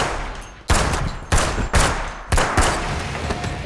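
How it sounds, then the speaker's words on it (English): Punchy gunshot sound effects styled after John Wick, a few loud sharp reports with short ringing tails, spaced irregularly over steady background noise. "And this is the gun."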